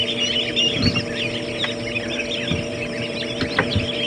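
Many newly hatched chicks peep and chirp together inside a homemade incubator built from an old refrigerator, a steady mains-like hum running underneath and a few louder soft thumps near the start and end.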